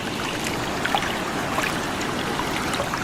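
Rising floodwater flowing steadily, a continuous broadband rush and trickle with no pauses, moderately loud and with no voices over it.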